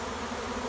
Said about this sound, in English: shake the bees off in the starter